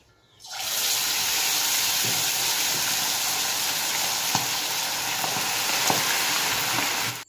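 Chicken meat roasting in a pan with plenty of spices gives a loud, steady sizzle and frying hiss that runs unbroken for about seven seconds. A few faint clicks and taps sound now and then, and nobody speaks.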